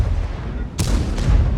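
Tank cannon fire in a World of Tanks clan war battle, with an IS-7 tank nearby, gives two abrupt blasts less than half a second apart over a low rumble.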